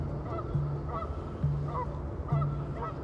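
Geese honk in a steady series of three evenly spaced calls, clear and fairly close, over a soft ambient bed with no talking.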